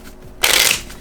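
Playing cards are shuffled for a game of Texas Hold'em in one quick, close riffle that gives a loud, crisp fluttering burst lasting about half a second.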